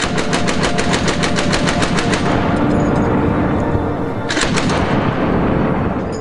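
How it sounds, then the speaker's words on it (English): Heavy gunfire in a firefight with Russian positions rattles out as a rapid, loud burst of automatic shots, then a drawn-out rumbling roar and a second sharp burst, all close and continuous with no talk. "Russians realize they're being flanked and respond with fire."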